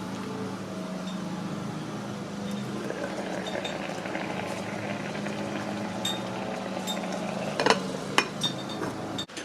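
Rice cooker cooking coconut rice pudding, giving a steady low bubbling and simmering hum with a few light clinks of the lid near the end.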